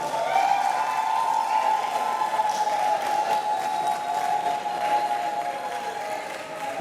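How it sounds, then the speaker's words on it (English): Sustained applause from a graduation ceremony audience at a business school, a steady dense wash of clapping with a faint held tone running through it. "A round of applause for Olujimi Rolake Yvonne"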